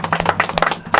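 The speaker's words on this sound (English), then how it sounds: "Big round of applause." A short burst of clapping from a small studio audience during a live band show, a few uneven claps heard close and clear with no talk over them.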